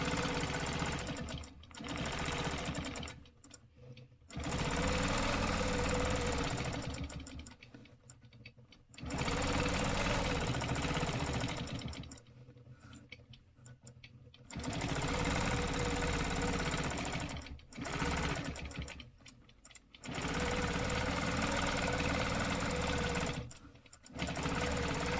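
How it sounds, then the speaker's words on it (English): A sewing machine runs in long bursts stitching vertical lines on a stenciled piece, its motor whirring and needle clattering loudly, then stopping briefly several times between rows. "I'm going to stitch all of these vertical lines"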